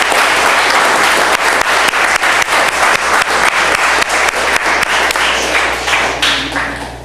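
An audience at a candidate forum in Pacifica applauds, a dense and loud stream of many hands clapping that holds steady for several seconds before tapering off at the end.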